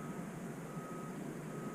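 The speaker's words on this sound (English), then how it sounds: "beeping, the guy's trying to back out from a row of trucks in there" Faint, distant backup alarm from a truck backing out of a row of trucks, a thin steady tone sitting over broad outdoor noise.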